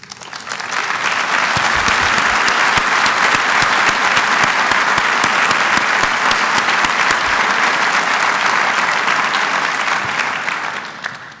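Sustained, loud audience applause at a university State of the University address, honoring Nancy and Pat Artist as they stand; dense clapping holds steady for about eleven seconds before tapering at the end.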